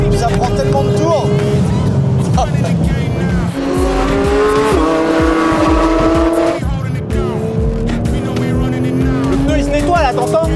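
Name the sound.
car tires squealing while cornering on a track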